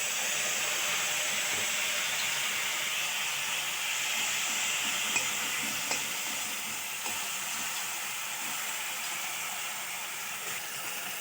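Spice paste for a vegetarian potato and cauliflower curry frying in oil gives a steady, even sizzle and hiss that runs unbroken throughout, with a few faint clicks and no voices.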